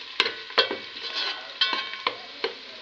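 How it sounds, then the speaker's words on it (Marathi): Spices for tempering crackle in hot oil as onion fries, in a Malvani village kitchen in Sindhudurg while country chicken curry is being cooked; a handful of sharp, close pops come at irregular moments over a steady hiss, with no talking. "फोडणी तडतडली"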